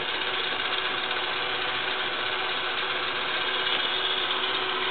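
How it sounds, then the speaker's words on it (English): A Hardinge HLV lathe cuts a metric thread with its lead screw driven by a servo motor, giving a steady, loud mechanical hum and whine with a constant motor drone throughout and no pauses. "And here's the threading. So this is controlled purely by a servo motor driving the lead screw."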